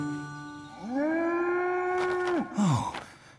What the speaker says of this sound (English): Oh, I'm hearing mooing wherever I go now.